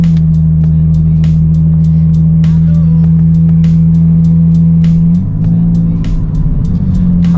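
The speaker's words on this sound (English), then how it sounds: "Rev it for you guys." A Lexus IS300 with a 2JZ engine and loud exhaust holds a heavy, steady drone up close, then its pitch shifts and the note roughens as the revs change near the end.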